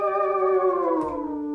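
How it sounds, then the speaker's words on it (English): Crying slide on a pedal steel guitar: a sustained chord bending gently downward with wavering vibrato, played softly and up close, with a faint tap near the end and no talking. "Also work diligently on your vibrato to create what we call the crying slide."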